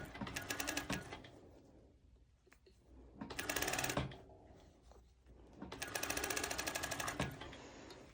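A sewing machine stitches a seam on a color-block sporty top, running in close, loud bursts of rapid needle clatter with short pauses and slower stretches between.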